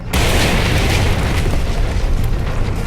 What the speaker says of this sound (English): You wake up to sounds of gunfire outside.